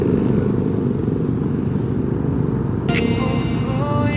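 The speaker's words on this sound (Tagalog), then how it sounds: "Yung mga motor." Motorcycles pass on a road in Nueva Ecija, Philippines, making a loud, close, continuous engine rumble, with a bright tonal whine rising in the last second.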